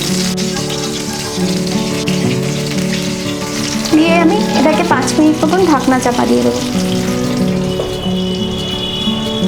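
Eggplant slices fry steadily in a pan for Bengali begun bahar, a constant loud sizzle throughout while someone speaks over it.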